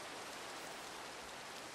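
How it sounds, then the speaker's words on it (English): Steady broadband rain pours in a Minecraft modpack world, a continuous soft hiss of falling drops with no gaps, fairly quiet and heard alone without any talk. "And it's raining, so we're gonna sleep because no one likes the sound of rain."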